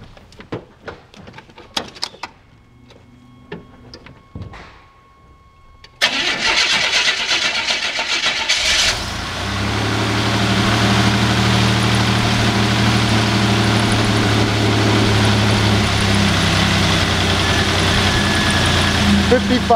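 A 1986 Buick T-Type with 55,000 miles: a few door and interior clunks, then the engine cranks and catches at about six seconds and settles into a steady, fairly loud idle that runs to the end.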